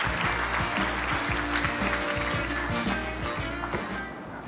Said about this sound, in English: Let's give the team on stage another round of applause for all of their hard work.